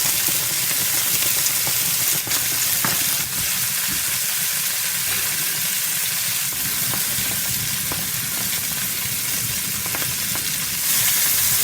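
Crushed garlic sizzles in olive oil in a pan, a dense, steady frying hiss with faint crackles and occasional stirring clicks, close up and continuous throughout, with no talking.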